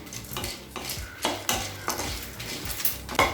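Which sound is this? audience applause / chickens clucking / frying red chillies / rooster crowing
frying red chillies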